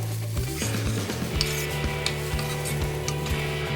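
Kielbasa sizzles steadily in a frying pan beside a pan of cooking potatoes, a close, continuous crackle with occasional scrapes and light knocks of a utensil against the pan.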